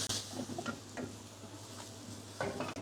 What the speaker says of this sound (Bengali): আমড়াগুলো দেওয়ার পর জাস্ট দুই এক মিনিট এভাবে নাড়িয়ে নেবেন